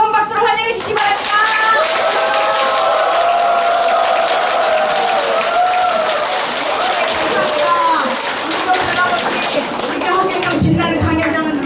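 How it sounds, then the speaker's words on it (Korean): A crowd at Huh Kyung-young's Saturday lecture hall applauds loudly and continuously for about twelve seconds, with sustained tonal sound and voices layered over the clapping. "신입 오신 허경영 총재님을 뜨거운 박수로 환영해 주시기 바랍니다."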